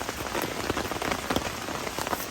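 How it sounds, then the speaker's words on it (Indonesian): Heavy rain pelts a tent at a mountain campsite on Gunung Slamet, a dense, steady hiss with close patters of drops throughout and no voices. "cuaca lagi benar-benar nggak mendukung, hujan tambah deras, bahkan sampai masuk ke tenda di sana"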